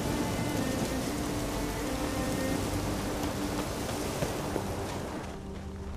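Steady, heavy rain in the video game The Witcher 3: Wild Hunt hisses continuously on surfaces, a dense wash of drops without pause that thins slightly at the end.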